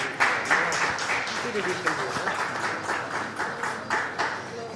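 An audience at a breast cancer art event claps for a cancer survivor called to the stage, a dense, close round of applause with sharp rhythmic bursts and voices mixed in throughout.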